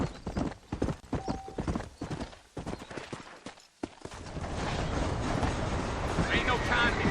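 A horse gallops in the Red Dead Redemption video game, its hooves a rapid clip-clop rhythm that gives way to a steady rushing rumble of movement, with a voice speaking briefly.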